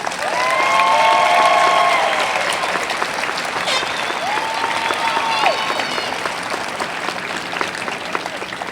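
Applause from the audience at a university commencement honors convocation, a broad steady wash of clapping in a large hall that gradually thins, with faint tonal sounds above it.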